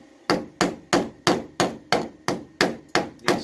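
Hammer taps down rusty quarter-panel seams on a 1966 Dodge Dart GT barn find, nine evenly spaced metallic blows about every third of a second, close and fairly loud with no talk.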